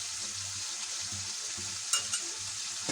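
Curry of tomato, potato and eggplant sautéing in oil in a wok (kadai), a steady close hiss of frying with soft stirring scrapes and a couple of sharper crackles near the end.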